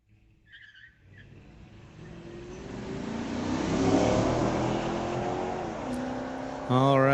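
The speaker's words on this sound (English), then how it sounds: "All right, both cars getting off the line about the same." A 1969 Dodge Dart and a second street-legal car launch off the line at a drag strip. Engines rise from a quiet start into a sustained roar with tire noise, and the sound holds loud through the run.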